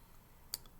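A single sharp computer mouse click sounds close and quiet against faint room hiss, one brief tick with nothing else around it.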